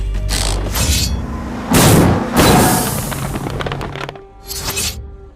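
Car tyre bursting from a puncture in a movie scene: loud sharp bangs and bursts of hissing rush repeat in separate blasts, close and forceful.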